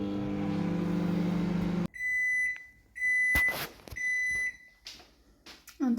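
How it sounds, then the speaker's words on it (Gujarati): A microwave oven cooking rice hums steadily with a low drone, then stops and gives a series of sharp, loud beeps with short pauses between them, close up and without talk. "આ માઇક્રોવેવમાં મૂકી દીધું છે. ડોર બંધ કરી અને આને હું કરીશ 12 મિનિટ માટે માઇક્રોવેવ."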